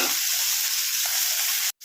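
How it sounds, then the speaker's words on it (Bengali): Pieces of bata fish fry in hot oil in a pan, giving a loud, dense, continuous sizzle that cuts off abruptly near the end. "এবার এই পিসটাও আমি এরমভাবে ভেজে নিচ্ছি।"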